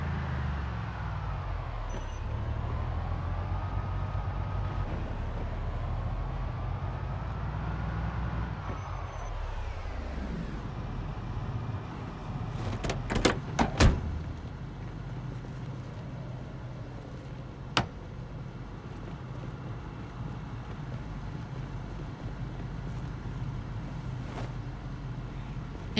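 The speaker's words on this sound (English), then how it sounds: "You heard my noisy car as we backed up all the way here." A noisy car in a zombie survival video game drives and reverses, giving a loud continuous engine drone that rises and falls with a few sharp clanks and knocks partway through.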